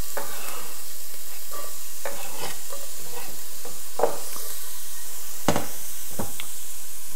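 Onions fry and sizzle in a pot for bean and tomato soup while a spoon stirs them in scattered scrapes and taps, close and steady, with no talking.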